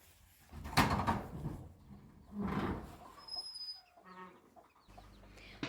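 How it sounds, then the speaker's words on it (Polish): Hens clucking in a yard while tending their chicks, with a few soft bursts of clucks and chirps near the recorder, followed by a brief creak and a low hum at the end. "Zobaczycie, zobaczycie, jak się kurki opiekują swoimi dziećmi."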